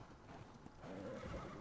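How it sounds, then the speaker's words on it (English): A horse in the survival video game ARK: Mobile neighs, a short whinny rising over steady game ambience and filling the second half of the moment, fairly close and clear with no talk. "this is definitely a nice, slow horse"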